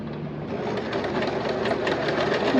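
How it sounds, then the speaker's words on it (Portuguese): Sewing machine stitching swimwear fabric, a steady, fast mechanical whir with a continuous rhythmic chatter running close and loud for the whole stretch, no voices. "Costura mais ou menos 1 centímetro."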